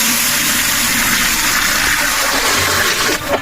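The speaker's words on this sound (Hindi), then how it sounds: "तो अभी जी डालेंगे पानी।" Water gushing steadily into a cooking pot for Charsadda mota chawal with beef, a loud continuous rushing splash with a slight clunk near the end.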